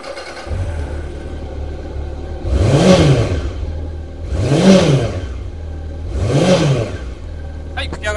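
A Honda CB750 (RC42) motorcycle engine starts up and idles with a steady low rumble, then revs sharply three times, each blip rising and falling in pitch.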